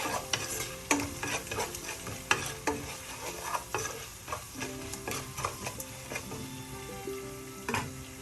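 Onions, green chillies and curry leaves stirred and sautéed in a pan for rava upma, a steady close sizzle of frying broken by repeated scraping strokes of the spoon, with no talking.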